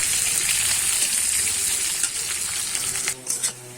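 Chopped onion fries in hot oil in a pan, giving a steady, bright sizzle that carries on throughout and briefly softens near the end.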